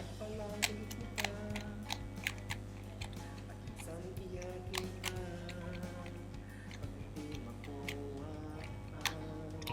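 A 3x3 Rubik's cube is turned quickly while being scrambled, producing a rapid, irregular run of small plastic clicks and ticks heard close up.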